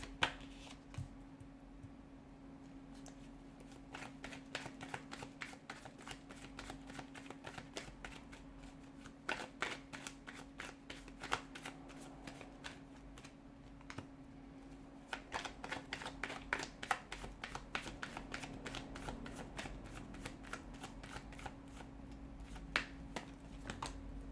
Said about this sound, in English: let's go ahead and give the cards a shuffle